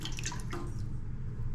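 Cooking oil poured into a pot before frying catfish, a short liquid glug and splash at the start that trails off into steady low background rumble.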